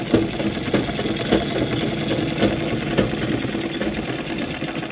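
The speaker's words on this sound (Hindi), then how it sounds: "ऐसे हम ये दूसरे में भी सिलाई लगा लेते हैं, ऐसे दोनों कपड़ों को बिल्कुल साथ में ऐसे रखकर।" Domestic sewing machine stitching two layers of salwar fabric held together, a steady rapid mechanical whir with regular needle clicks, close and continuous with no talking.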